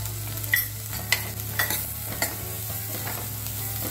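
Flour (maida) being stirred and roasted with cabbage and other vegetables in a pan for mixed vegetable soup: steady scraping stirs with soft sizzling, several distinct spoon strokes close by, no talking.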